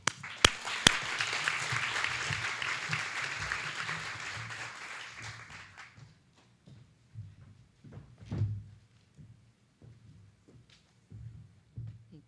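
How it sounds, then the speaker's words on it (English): Audience applause at a symposium awards ceremony, moderate and fairly distant, lasting about six seconds before fading into quiet room noise with a few soft thumps and faint voices. "So let's give a round of applause first for Senator Murkowski"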